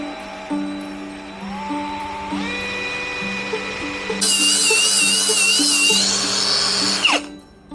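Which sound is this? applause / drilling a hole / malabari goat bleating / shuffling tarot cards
drilling a hole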